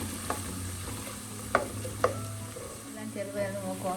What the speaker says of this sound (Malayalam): ഇതെല്ലാം കൂടെ നമുക്കൊന്ന് ഇളക്കി കൊടുക്കാം.